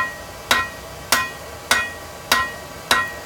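Five evenly spaced, ringing hammer blows on an anvil while forging hammer eye pick-up tongs, each strike sharp and metallic with a short decay, close and loud with no talk.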